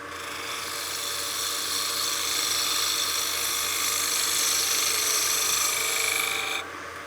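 Steady broadband rasping hiss of a 3/8 spindle gouge cutting a spinning wooden German smoker head on a wood lathe, continuous for several seconds before it cuts off abruptly near the end.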